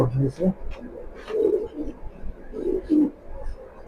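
A pair of masala racing pigeons coo nearby in soft, low, repeated calls that rise and fall in short bursts.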